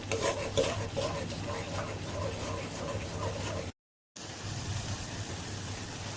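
Taro curry being stirred in a pot, a steady soft scraping and rubbing with faint sizzling, close and continuous, broken by a short silent gap.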